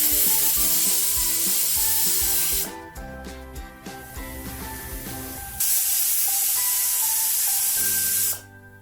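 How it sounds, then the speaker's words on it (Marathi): A pressure cooker cooking chickpeas whistles with a loud, continuous hissing steam release that rises and falls, broken by quieter stretches, then cuts off abruptly near the end. "कुकरच्या शिट्या झालेल्या आहेत"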